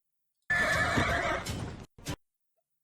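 A horse whinnies loudly in the video game Zelda: Echoes of Wisdom, a long neigh with hoof clip-clop beneath it, then a short second burst after a brief pause.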